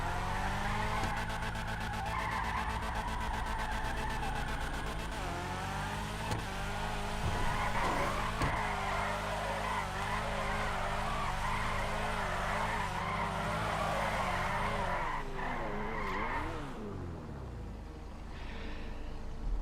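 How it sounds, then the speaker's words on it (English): A stanced car on low grip tires drifts in free roam in GTA 5, engine droning loudly and steadily with tires squealing and pitch rising and falling through the slides, fading near the end. "So you can get stanced with low grip tires in free roam and do some drifting"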